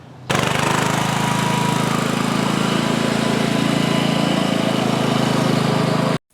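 An Allis Chalmers 310 tractor engine runs steadily and loudly, a close, even mechanical chug held for about six seconds before cutting off abruptly.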